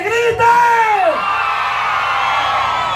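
An outdoor crowd at a patronal festival concert in El Pocito, Guayubin, 2017, roars and whoops loudly in response to a merengue singer, the swell of yelling rising sharply and then settling into a sustained cheer.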